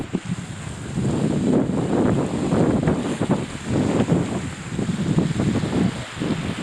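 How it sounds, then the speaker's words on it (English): A geyser erupting in Yellowstone's Upper Geyser Basin gives a steady, loud roaring rush of water and steam that surges and pulses continuously. "We're at the upper geyser basin and we're watching this guy go off."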